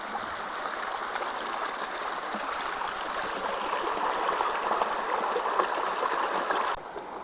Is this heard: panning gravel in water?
yes